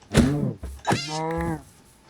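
A cat in the Minecraft video game meows twice, close and clear, and the second call is drawn out.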